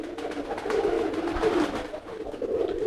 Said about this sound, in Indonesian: Nah, kalau merpati pos emang giringnya seperti ini.